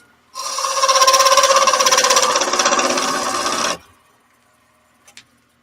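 A woodturning gouge is ground sharp in one continuous, bright rasping grind that lasts about three seconds and then stops abruptly, followed by a faint small clink.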